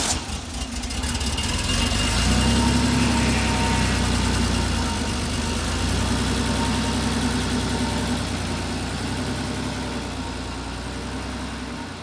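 A 1992 Porsche 964 Targa engine turns over and settles into a loud, close, steady idle with a deep rumbling drone and a slight fade toward the end, with no voices.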